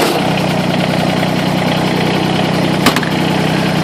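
A tractor engine runs at a steady, loud idle close by, with one brief knock near the end and no voices.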